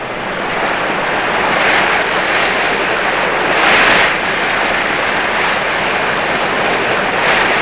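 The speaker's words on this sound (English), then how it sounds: "here the helicopter keeps pace with the speedboat, which now tows Peterson through the surf" A helicopter keeps pace with a speedboat towing a water-skier through tumbling surf breakers, producing a steady, loud, broadband engine and rotor roar that swells slightly now and then, with no talking.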